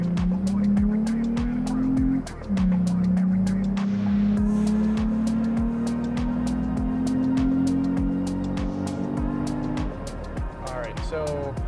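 A Toyota Tacoma with an aftermarket exhaust revving hard to 6,000 RPM while driving, loud droning engine pitch climbing steadily, dropping briefly at a shift, then rising again before easing off, with rapid exhaust pulses throughout.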